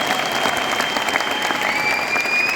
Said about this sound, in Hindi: ताली बजा दो एक बार यार